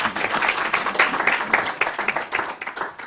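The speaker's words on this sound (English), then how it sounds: "let's give a big round of applause to our speaker." An audience at a panel on inclusive finance claps for the speaker, moderately loud applause from a fair-sized crowd, steady for a few seconds and then thinning out toward the end.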